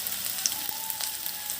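Chopped onion, chili and tomato with a pinch of salt fry steadily in hot oil for an egg dish, a soft continuous sizzle with light crackles, close and alone.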